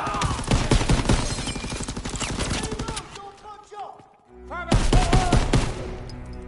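Rapid bursts of gunfire in the World War II shooter game Call of Duty, with dense overlapping shots for about three seconds, a brief lull, then another loud volley.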